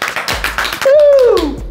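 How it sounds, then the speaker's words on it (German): A quick run of handclaps in a villa with a film studio, a handful of evenly spaced claps, close and fairly loud, followed by a sliding whistle-like vocal tone. "Der kriegt natürlich auch einen Applaus."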